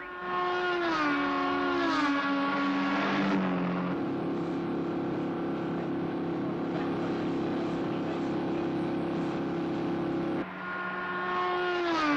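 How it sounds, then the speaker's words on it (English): Race cars on a sand track scream through the final lap, with a loud sustained engine whine that shifts pitch as they pass, continuous throughout. "Gomez, Tracy, and Webster are coming round into the last lap"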